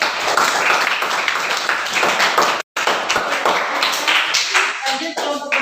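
A classroom of secondary-school students gives a group of classmates a round of dense, fast clapping that stays near and loud, with a brief cutout midway and a few voices at the end.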